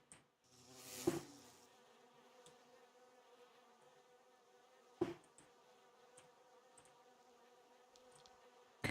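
Bees from a hive in a video game give off a faint, steady droning buzz, broken by two sharp clicks spaced a few seconds apart.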